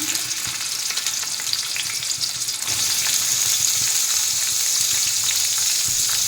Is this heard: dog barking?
no